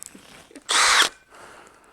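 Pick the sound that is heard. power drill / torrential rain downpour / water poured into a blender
power drill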